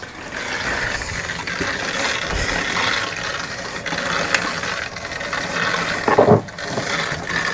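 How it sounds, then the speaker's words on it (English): Water on full pressure, about 40 psi, rushes through household pipes after a filter repair, a steady loud hissing flow with a few knocks and gurgles, no voices. "So let's go turn the water on full."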